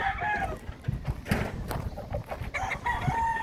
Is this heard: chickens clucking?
yes